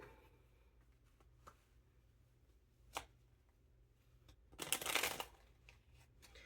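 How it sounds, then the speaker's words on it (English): A burst of riffling playing cards being shuffled near the end, preceded by a few soft taps and clicks against a quiet background. "let's shuffle for the next one"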